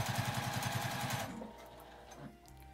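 Sewing machine stitching fabric for a zippered shoulder bag, a steady rapid mechanical rattle of the needle running loud and close for just over a second, then stopping and leaving quiet handling sounds.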